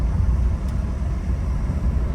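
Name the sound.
Ford Focus automatic engine accelerating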